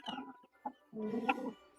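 A hen clucking in a few short bursts, a brief cluck, a small pause, then a longer, louder run of clucks, heard close and alone with no talk.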